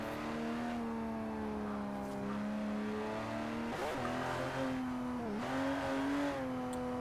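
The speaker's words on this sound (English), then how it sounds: "Sounds so good decelling though when you get those backfires and pops." Porsche racing engine in Forza Horizon 4, revving loud and steady with pitch rising and dipping through gear changes and lifts, with brief crackles as it decelerates.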